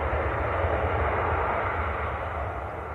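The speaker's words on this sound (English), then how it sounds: "Matt says the Sun Express is on the taxi, that's in the special livery" A Sun Express airliner in special livery taxiing at Manchester Airport, a steady broadband jet engine roar heard from a distance, continuous and even with no voices.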